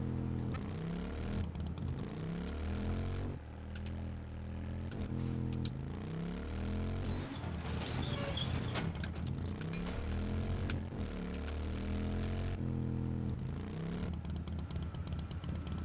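A motorcycle engine in the survival video game 7 Days to Die revs and accelerates in repeated rising sweeps, droning steadily and fairly loud throughout, with no talk over it.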